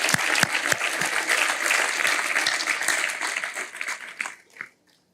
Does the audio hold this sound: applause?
yes